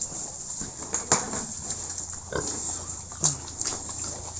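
Grower-stage fattener pigs at feeding time in a pen, with scattered grunts, snorts and feeder clatter over a steady background hiss.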